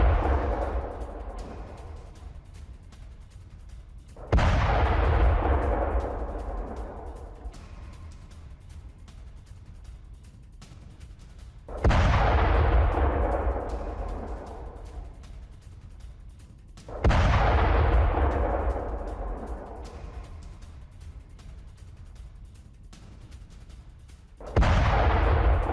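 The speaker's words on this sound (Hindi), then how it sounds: "बहरीन में ईरान की एयर स्ट्राइक, बहुमंजिला इमारतों से मिसाइलें टकराई हैं।" Explosions from an Iranian missile air strike on multi-storey buildings in Bahrain: about five heavy, booming blasts several seconds apart, each rolling off into a long, fading rumble.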